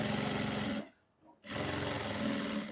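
A sewing machine stitching fabric for a pant trouser runs in a steady, buzzing whir, cuts out for about half a second, then starts again at the same close, even pace.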